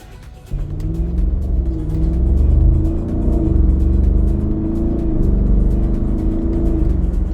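An Audi SQ7 SUV fires up and pulls hard, a loud deep engine rumble heard from inside the cabin, its note rising and swelling in waves over several seconds with no talk.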